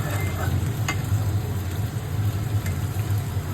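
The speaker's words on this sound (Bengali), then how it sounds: "আর এবার ওই তেলে আমি একটু আলুগুলো ভেজে নিচ্ছি" Potatoes fry in oil left over from frying fish, a steady close sizzle over a low stove hum, broken by a couple of sharp clicks.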